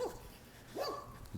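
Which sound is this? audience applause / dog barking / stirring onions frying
dog barking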